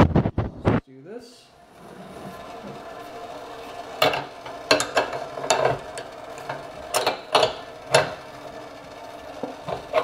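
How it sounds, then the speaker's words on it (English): A wrench tightening a fitting on a homemade twin-cylinder steam engine gives sharp metallic ratcheting clicks, close and loud, in quick bursts after a brief pause and a low background hum. "And then I put this back on and tighten it with a couple wrench."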